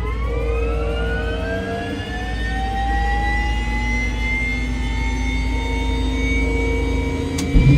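Helicopter turbine spooling up, rising whine tones climbing steadily over a heavy low engine rumble, loud and close, with a brief click near the end.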